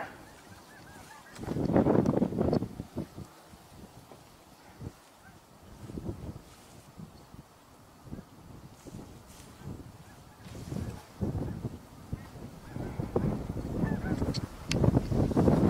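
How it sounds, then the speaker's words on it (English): Several snow geese honk overhead outdoors in repeated bursts of calls, loud at times and fading between, with no talk over them. "Sounds like a few snow geese might be up above us."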